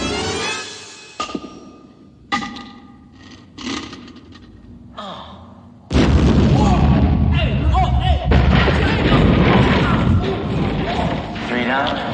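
A sudden loud grenade explosion in a comedic TV cop show, a booming blast that turns into a sustained rumble of debris and noise after several scattered thumps and short exclamations.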